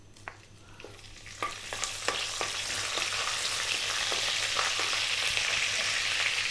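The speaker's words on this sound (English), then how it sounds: "We're now going to drop in the fresh curry leaves." Fresh curry leaves hit hot oil that already holds red chili and burst into loud, spitting sizzle, starting with scattered pops and swelling into a dense, continuous hiss for a lentil dish.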